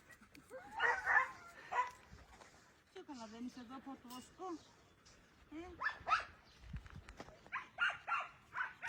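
Rescued stray dogs play and bark, giving sharp yips, barks and whimpers in bursts close by, with people talking between and over them.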